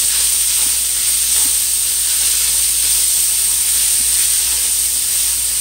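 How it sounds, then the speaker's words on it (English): Vegetables saute in a hot pan with garlic for rasta pasta with shrimp and smoked salmon, a loud, continuous close sizzle and hiss that holds steady throughout, with no talking. "You put in your veggies and you quickly start to saute."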